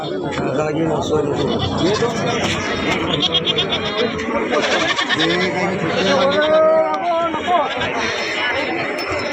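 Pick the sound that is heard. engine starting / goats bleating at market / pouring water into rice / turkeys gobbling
goats bleating at market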